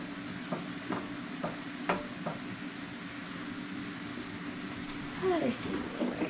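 Eggs being pushed around and fried in a pan, giving a steady soft sizzle with scraping stir strokes and a few sharp utensil clicks, with a person talking nearby.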